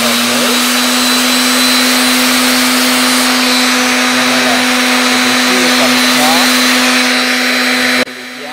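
A wood polishing machine whines with a steady, loud, high motor drone while polishing a stone, continuous and close, cutting off abruptly near the end.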